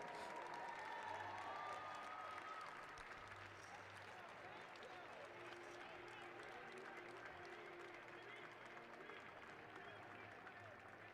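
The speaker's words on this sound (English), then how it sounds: "Let's get a round of applause." A crowd at a track championship finale gives a round of applause for junior competitors, a steady wash of clapping at a distance that fills the whole stretch, with faint talk underneath.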